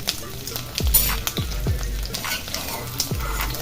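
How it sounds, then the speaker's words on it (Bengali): Eggs frying in mustard oil in a kadai, a steady sizzle with repeated scraping stirs and turning, close up and loud, no talking. "এবার ডিমগুলো নাড়াচাড়া করে হালকা একটু ভেজে নিব"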